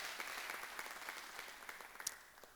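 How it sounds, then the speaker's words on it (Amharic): Faint applause from a church congregation during a sermon, soft continuous clapping with a few sharper individual claps standing out, heard from a distance. "አጨብጭቡለት thank you ብላችሁ"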